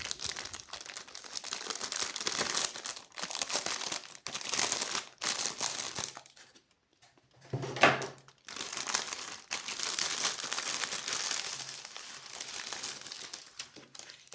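Crinkling plastic bag holding scale model aircraft parts and instructions rustles nearly continuously as it is opened, close and moderately loud, with a brief quiet pause midway before the crackling resumes.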